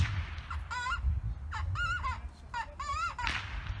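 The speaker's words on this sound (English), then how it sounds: "One call, do quail calls with it." Quail calls blown on a hand-held game call used for varmint and predator calling: four short warbling whistled bursts over a steady hum of a busy indoor event, with a fairly faint overall level.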